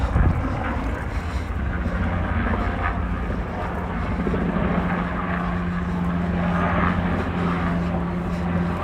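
Helicopter noise over the New York riverfront, a loud, steady rotor and engine drone that fills the whole stretch without letting up, with faint city background beneath it.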